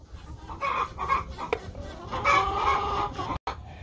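Chickens on a farm clucking and cackling in repeated loud bursts, with a rooster's crow rising among them, close and lively with no talking.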